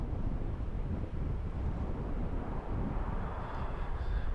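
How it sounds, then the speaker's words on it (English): Strong wind buffets the microphone at a hilltop lookout above a valley beside a parked truck, a steady close rumbling roar without talk. "I think the wind is starting to pick up too."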